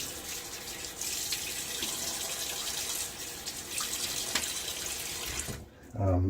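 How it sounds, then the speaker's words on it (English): Water runs from a bathroom sink tap and splashes during a wet shave, a continuous hissing flow that stops abruptly near the end, followed by a short thump. "And splash water."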